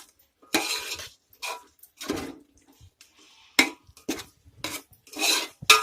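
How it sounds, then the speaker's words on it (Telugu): Yogurt is stirred into prawn pulao in a pot, heard as separate bursts of spoon scraping and clinking against metal with quiet gaps between them. "పెరుగు. వేసుకుని బాగా కలుపుకోవాలి"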